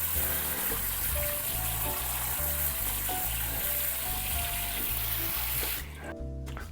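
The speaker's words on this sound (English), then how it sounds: "the water coming out of your faucet" A kitchen faucet runs in a steady, hissing stream that stops abruptly near the end, leaving a quieter background.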